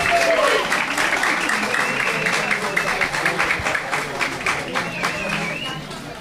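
Audience applause at a public seminar on LGBTQIA+ policy, dense sustained clapping with some distinct individual claps, with voices and faint cheers audible under it.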